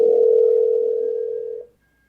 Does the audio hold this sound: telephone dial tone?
yes